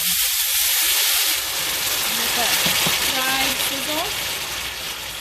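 Loud, steady sizzling and hissing as water hits a hot pan of freeze-dried stuffing ingredients, with a few faint scraping sounds partway through.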